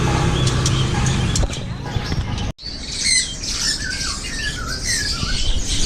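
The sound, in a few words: sun conure parrot squawking at a bird market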